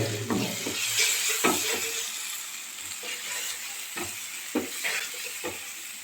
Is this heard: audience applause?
no